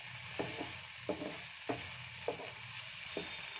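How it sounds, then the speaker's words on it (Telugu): Baby corn chicken filling with salt fries in a pan for samosas, a quiet steady hiss broken by five evenly spaced soft stirring scrapes, faint and nearby with no speech. "ఒక 5 నిమిషాలు వేగాలి."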